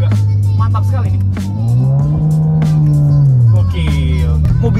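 A Mazda 2 fitted with a Sokudo full exhaust system and an equal-length header revs hard, its loud, close engine note climbing steadily in pitch before easing back down.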